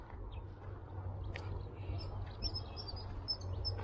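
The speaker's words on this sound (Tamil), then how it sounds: "இங்கே நிறைய வந்து பார்த்திங்கன்னா மலையில் வந்து இந்த பறவைகள் சத்தம் கேட்குது." Birds call on a hillside near a Shiva temple at Pazhaveli, Chengalpattu: faint, scattered high chirps and tweets sound at a distance over a soft, steady outdoor background.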